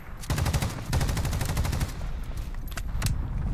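Automatic gunfire in the battle royale shooter Call of Duty: Warzone, rapid bursts of close, loud shots rattling in quick strings with brief gaps and a few sharper single cracks, no talking.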